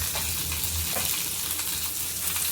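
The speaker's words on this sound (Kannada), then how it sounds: "ಕಡಲೆಬೇಳೆ, ಆಯಿಲು, ಕರಿಬೇವು ಮತ್ತು ಈರುಳ್ಳಿ ಹಾಕೊಂಡು ಚೆನ್ನಾಗಿ ಫ್ರೈ ಮಾಡ್ಕೊಳ್ತೀನಿ" Chana dal, curry leaves and onion fry in hot oil in a home kitchen, a close, continuous sizzle with light stirring scrapes throughout and no talking.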